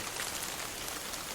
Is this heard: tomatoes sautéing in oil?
no